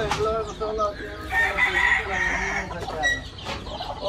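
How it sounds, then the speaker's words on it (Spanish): Hens with chicks cluck and call on a farm, a busy mix of close and nearby fowl sounds running steadily throughout with no break. "Aquí básicamente lo que tenemos son las gallinas sacadas."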